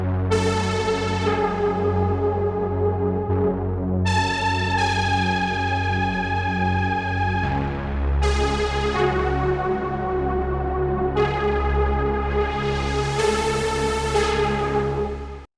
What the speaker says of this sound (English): Synth Dissolve is really cool, and the higher notes have a kind of vibrato trembling effect.